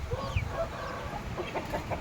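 Young Taiwanese fighting chickens clucking close by, a run of short, irregular clucks and soft calls from several birds in a farmyard setting, with no voices.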